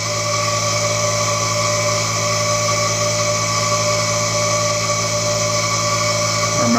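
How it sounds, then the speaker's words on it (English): Electric motor in a resonance voltage amplification setup runs with a steady, even hum and layered whine at constant pitch, close and unbroken, with a small change near the end. "Our motor is running at about"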